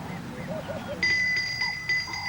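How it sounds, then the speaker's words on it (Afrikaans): A small hand bell rings in a quiet domestic setting in a 1976 Afrikaans drama, several bright sustained rings after a moment of low room sound and brief faint voices. "Tant Nonnie se klokkie."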